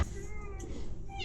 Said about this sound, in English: As you've seen the increase in meowing, it gets louder and more frequent.